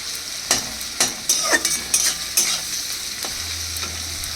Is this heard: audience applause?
no